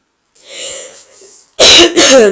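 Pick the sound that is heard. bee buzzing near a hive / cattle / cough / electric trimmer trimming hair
cough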